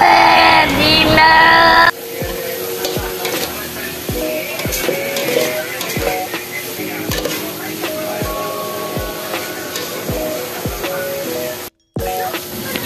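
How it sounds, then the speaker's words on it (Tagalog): Chopped beef innards sautéing in a hot pan for pinapaitan: a steady sizzling hiss with regular scraping stirs and soft utensil knocks against the pan, close by. "Ibuhos na natin dito ang ating mga ginayat na laman ng loob ng baka. Gisa-gisain lang natin ito guys."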